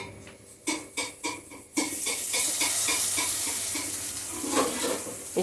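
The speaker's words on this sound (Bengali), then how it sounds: "তেল আমার গরম হয়ে গেল, ব্যাটারও গুলানো হয়ে গেছে। এই যে এখন আমি ডুবিয়ে দিয়ে দিচ্ছি কড়াইয়ের মধ্যে।" Batter-coated vegetables for a vegetarian paturi dropped into hot oil in a wok: several soft splashes and taps, then a sudden loud, bubbling sizzle that holds steady, close by and without talk.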